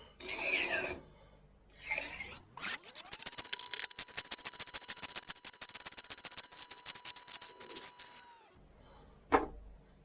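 A Spyderco Z-Cut kitchen knife is sharpened on a dual-grit Spyderco Gauntlet Edge, giving steady, rapid rasping strokes that run for several seconds at close range, set between brief handling noises and ending with a sharp knock.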